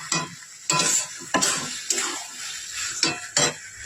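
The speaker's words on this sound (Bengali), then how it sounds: "আস্তাকে এই সময় জোর করে দিয়ে নেড়ে শুকনো করে নেবো।" A spoon scrapes and stirs spinach and fish head chorchori in a hot pan, with six or seven firm, rhythmic strokes over a steady sizzle of frying, close up and without talk.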